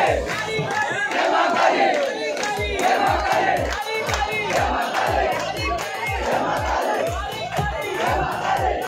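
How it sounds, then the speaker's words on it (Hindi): A dense crowd at a Kali Mata procession arrival in Jhansi roars and cheers continuously, with rhythmic drumbeats pulsing underneath and many voices shouting together close by. "ये आपको जो भीड़ देख रही है काली जी की यात्रा की पूरी भीड़ है आगमन की अकेली"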